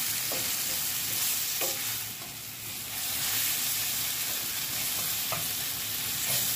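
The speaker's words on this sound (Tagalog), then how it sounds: "Igisa-gisa natin ng konti yung ating sili" Chili peppers sautéing in a pan, a steady close sizzle with faint scrapes of stirring throughout and no one talking.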